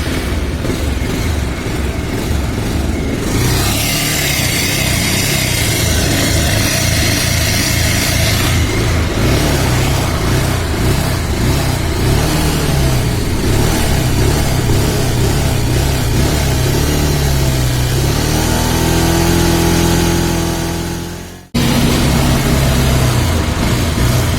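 A Bajaj Pulsar 180 BS-3 motorcycle engine runs continuously up close, its idle rising and falling slightly, with a brief cut near the end before it carries on.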